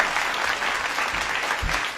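A crowd claps steadily and densely throughout, a continuous wash of applause with no voices standing out.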